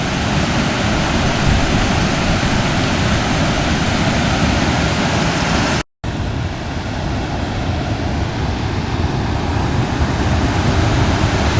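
Low Force waterfall on the River Tees along the Pennine Way roars as a loud, steady broadband rush close by. The wash stays constant and alone apart from a brief dropout midway.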